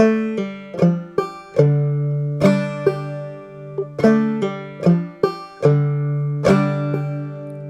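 Banjo played in a clawhammer style on the tune Shady Grove, bright plucked notes in a bouncy, steady rhythm with brushed strums, close and clear with no voices.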